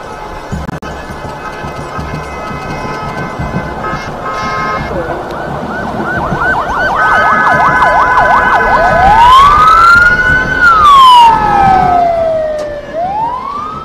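A presidential motorcade's sirens rise and wail loudly over a busy outdoor inauguration ceremony in Nigeria, the sweeping tones climbing and falling as the convoy approaches amid crowd noise and band music.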